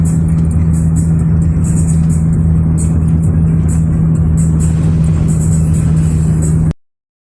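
Close and loud, a car's engine hums at an even pitch over road rumble as it drives along, faint high chirps come and go above it, and the sound cuts off abruptly near the end.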